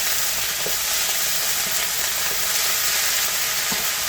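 Stir fry rice sizzling steadily in a pan while being stirred, a loud continuous hiss with occasional soft scraping of the utensil, no voices.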